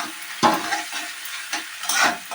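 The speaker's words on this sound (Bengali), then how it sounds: "দিয়ে আমরা এটাকে আবার কিছুক্ষণ কষাতে থাকবো" Coconut prawn masala, seasoned with salt and turmeric, is stirred and sautéed in a pan. Close, repeated scraping strokes sound over a constant sizzle.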